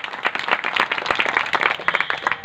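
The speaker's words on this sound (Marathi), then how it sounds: "एकदा आमच्या माऊलींसाठी जोरदार टाळ्या वाजवा." An audience at a kirtan in Navnath Nagar, Chhatrapati Sambhajinagar, claps vigorously, a dense burst of many hands that is close, loud and sustained throughout, with no voices over it.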